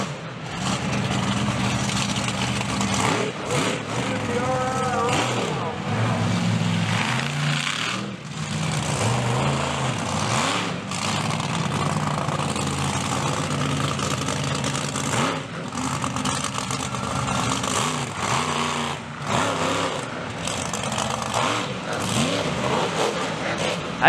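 Monster truck engines rev and roar at the New Egypt Summer Smash outdoor show, loud surging throttle bursts rising and falling over a steady rumble, with crowd noise beneath.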